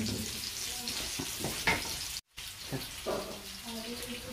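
Red onion sautéing in a tagine makes a steady close sizzle with occasional stirring scrapes, and a brief dropout midway; a voice speaks faintly in the background.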